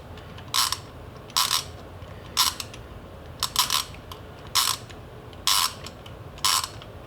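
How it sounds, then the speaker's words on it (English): A socket wrench backs a spark plug out of a 2001 Jeep Cherokee XJ engine, with seven short, evenly spaced bursts of ratchet clicking close up over a quiet background. "So we'll go ahead and take this spark plug out first,"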